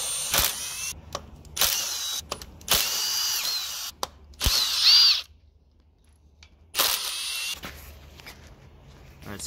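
Power drill fitted with a T30 Torx bit backing out screws from the valve body of a Mercedes 7G-Tronic 722.9 AMG transmission, several loud close whirring bursts of varying length separated by short pauses, with no talking.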